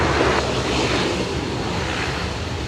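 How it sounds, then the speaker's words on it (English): A Qantas airliner lands on runway 16 right at Sydney, heard as a loud, continuous broadband jet roar with rushing air that fades slightly toward the end, no voices present. "That's Qantas 541. Just arrived there on 16 right."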